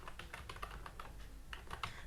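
Fingers tap steadily on a computer keyboard during PHP coding, a quick run of close, light clicks with short pauses and no speech.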